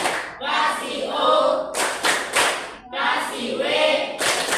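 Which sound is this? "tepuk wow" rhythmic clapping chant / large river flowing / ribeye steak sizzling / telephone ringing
"tepuk wow" rhythmic clapping chant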